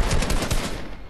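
Rapid automatic gunfire in the Fortnite video game, a dense burst of loud, close shots that tapers off within about a second, with no talk over it.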